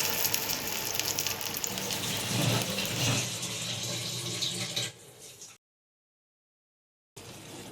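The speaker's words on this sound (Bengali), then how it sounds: "মশলাটার মধ্যে আরও সামান্য পরিমাণ জল দিয়ে দেবো" Water poured from close by into a pan of mustard masala with hilsa fish, a steady gushing splash for about five seconds that tapers off, then silence.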